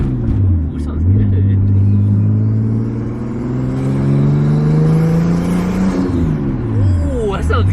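A right-hand-drive Nissan R34 Skyline engine drones loudly while driving, its pitch climbing and dropping through gear changes, heard from inside the car with voices briefly over it.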